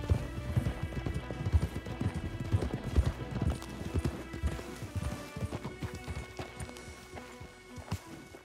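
Horse hooves clip-clopping in Red Dead Redemption 2, a close, rhythmic trot of hoofbeats that loosens and thins toward the end, with a soft musical bed underneath.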